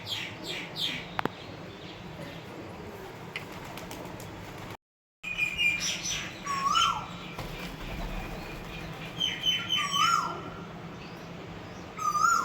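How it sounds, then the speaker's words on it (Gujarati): An Asian koel calling in a garden in Junagadh, with a couple of rising whistled notes over a busy background of other birds chirping and wings flapping, at moderate distance. "કોયલનો કેવો સરસ અવાજ આવે છે"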